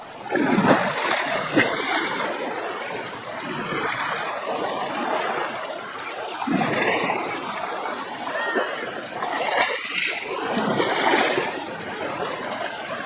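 Wild animals wade through a deep stream in the Lower Zambezi as the sun sets, with steady, close water splashing and churning throughout in continuous surges, no clear voices.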